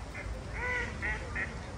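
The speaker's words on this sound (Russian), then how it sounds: "Уточки." Ducks quack several times in a park in Riga, Latvia, four short nasal calls spaced across a moment, fairly close over a soft outdoor background.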